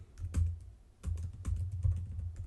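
Quick bursts of keystrokes on a computer keyboard while coding, the clicks coming close and fairly loud in uneven clusters with short pauses between them, and no one speaking.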